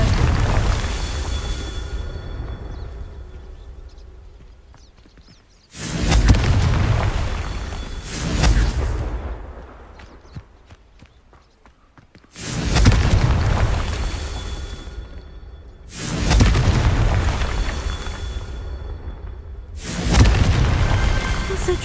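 Confringo fire spells exploding in the Hogwarts Legacy video game, five heavy booming blasts spaced a few seconds apart, each a deep loud burst that decays into a rumbling tail.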